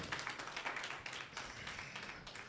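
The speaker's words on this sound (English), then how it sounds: "let's put our hands together" A church congregation clapping their hands together, a quick, fairly faint patter of rhythmic claps from a crowd, steady throughout.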